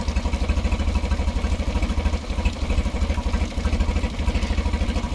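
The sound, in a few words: Mercury F9.9 outboard motor idling after carburetor replacement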